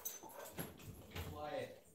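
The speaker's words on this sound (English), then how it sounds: "he's going to continue to bark until I go let him out" A dog at home barks and whimpers somewhere nearby in short, uneven bursts, mixed with faint jangling and close human speech over the top.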